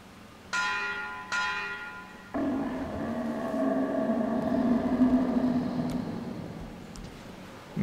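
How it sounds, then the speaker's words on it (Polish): Two struck bell tones in the game Metro Exodus, each ringing out with a long shimmering decay, followed by a louder, sustained metallic clang that swells and lingers over a low rumble. "Tu jest dzwonek."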